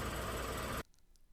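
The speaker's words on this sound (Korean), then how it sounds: "차에 시동을 걸었다가" A parked car's engine runs with a faint, steady hum and then cuts off abruptly, leaving near silence.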